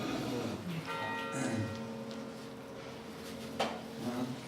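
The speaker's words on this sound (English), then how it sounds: "we just got the bell" A bell rings with sustained tonal harmonics, struck around one second and again near three and a half seconds, in a Hindu devotional setting with some faint background voices.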